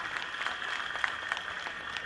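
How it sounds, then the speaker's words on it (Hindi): Applause from a crowd at a felicitation ceremony in Mumbra, a dense steady wash of clapping at moderate level with no speech on top, holding evenly throughout. "जोरदार तालियों से स्वागत कीजिए"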